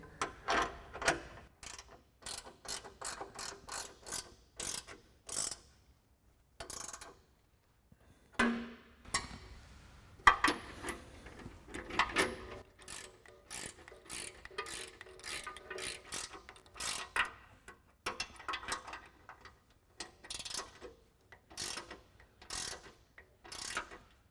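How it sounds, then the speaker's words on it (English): An 18mm ratcheting wrench tightens bolts on a Bronco front bumper, giving quick bursts of close, crisp ratchet clicks in irregular runs separated by short pauses, fairly faint overall. "we'll grab our 18mm ratcheting wrench to tighten down our bolts"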